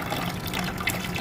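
Water starts to trickle and gush from an instant geyser pipe that had been clogged with scale, a steady close, hissing flow with no voices.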